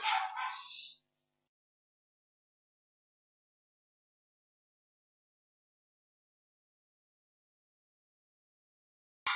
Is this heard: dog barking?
yes